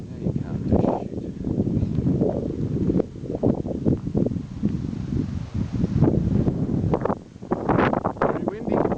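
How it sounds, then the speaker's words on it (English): Strong gusty wind buffets the microphone during a walk on a bush trail near Manly Dam, a steady low roar swelling and dipping throughout, with people talking over it. "Very windy."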